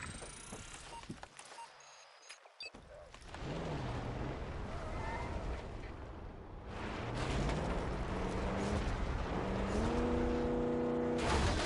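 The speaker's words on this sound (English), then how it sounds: "Mortar strike at the ready." Mortar strike explosions in Black Ops 6 video game roll in as a low rumbling boom that swells and sustains, with game effects and tonal sounds layered over it.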